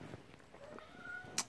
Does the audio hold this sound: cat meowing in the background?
yes